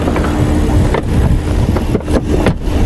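A 2013 Land Rover with a 5.0L engine running, a steady loud mid-pitched drone with a few brief dips and bumps, close and continuous.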